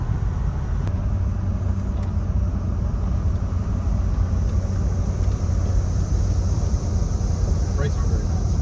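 A 1971 Plymouth Roadrunner V8, revived after sitting for 35 years, roars under hard acceleration from inside the cabin, a loud, continuous low rumble that barely varies in level, with voices talking over it.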